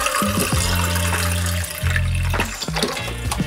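Vegetable broth is poured into a pot of butternut squash chili with black beans. It makes a steady liquid splashing and gurgling that runs in two pours with a brief break between them, close and fairly loud, with no talking.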